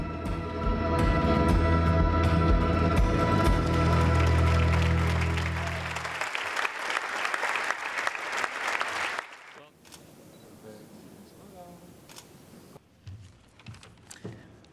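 An awards ceremony crowd claps and cheers for an award recipient, sustained applause under loud music that cuts off, followed by quieter room sound.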